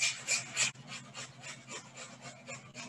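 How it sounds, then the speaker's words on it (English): An onion rubbed down a metal box grater for Greek meatballs gives close, rhythmic rasping strokes, louder at first and then settling into a steady back-and-forth scrape with no talking. "bringing back the box grater, and I'm going to grate this onion"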